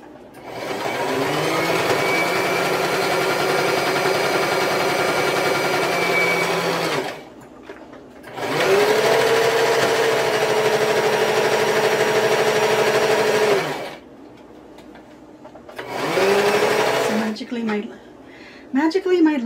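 A sewing machine runs in three long stitching bursts with short pauses between, a steady close mechanical whir.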